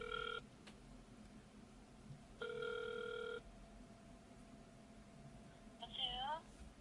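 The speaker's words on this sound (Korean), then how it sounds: "우리 한번 이분한테 전화를 해볼까요?" An outgoing telephone call ringing, with two electronic ring bursts about two seconds apart over faint room noise, followed by a brief warbling tone near the end, on a radio program.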